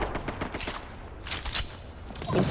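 Rapid bursts of automatic gunfire from an enemy squad in Apex Legends, coming in clustered volleys at moderate distance, with a louder flurry near the middle and another toward the end.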